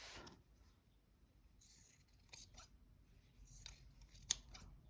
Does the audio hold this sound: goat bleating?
no